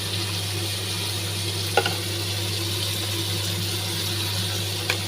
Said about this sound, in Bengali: মশলাটাকে ভালোভাবে কষিয়ে নিতে হবে যতক্ষণ না মশলা থেকে তেল ছেড়ে দিচ্ছে।